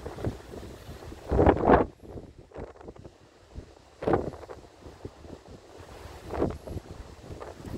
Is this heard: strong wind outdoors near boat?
yes